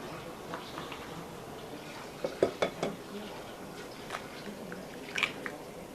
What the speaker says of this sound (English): so now we do the manual mixing